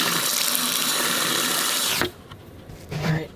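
Water rushes steadily into an Airstream trailer's gray tank with a loud, hissing flow, then cuts off abruptly partway through, leaving quieter gurgles and a brief swell afterward.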